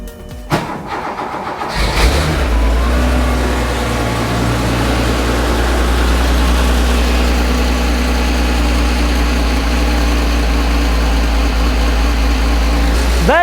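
A Porsche 911 2.8 RSR build with a home-made bi-modal exhaust cranks and fires up, then settles into a loud, steady, deep idle that runs on continuously, close by.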